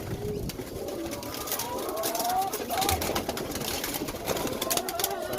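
A young pigeon coos softly while being held for a pox vaccination, low throaty warbling calls repeating over steady background noise, close to the microphone.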